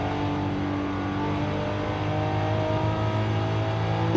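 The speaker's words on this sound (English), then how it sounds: "there's something about this V6 that sounds quite cool" A 2022 Cadillac CT4-V Blackwing V6 engine in Forza Horizon 5 drones steadily and revs a little, a loud, close, sustained mechanical hum with no talking.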